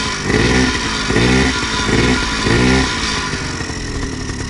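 A homemade moped scooter engine starts and runs, loud and close, with rhythmic revving pulses that settle into a steady two-stroke-like clatter.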